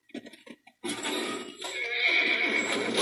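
A horse in The Last of Us Remastered gives a loud, close whinny that breaks off sharply, followed by a few seconds of dense, noisy game sound with hoof clatter and rustling.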